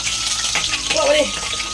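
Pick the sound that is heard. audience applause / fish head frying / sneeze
fish head frying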